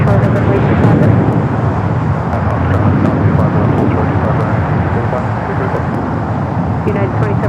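A jet airliner powers up for takeoff on a runway at Los Angeles LAX airport with a loud, steady broadband roar. The roar holds for the whole stretch, with faint radio chatter mixed in.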